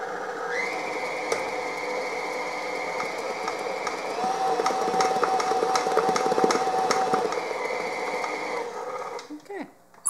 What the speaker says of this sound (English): It's so much easier with a mixer.